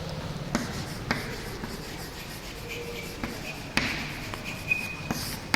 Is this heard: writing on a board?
yes